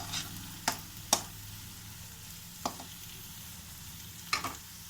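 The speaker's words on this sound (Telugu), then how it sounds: "1 స్పూన్ అల్లం వెల్లుల్లి పేస్ట్ కూడా వేసుకుందాము. కలిపేసుకుందాము." Ginger garlic paste is stirred into a pan of frying meal maker curry: a faint low sizzle runs underneath a few sharp, separate spoon scrapes and taps against the pan.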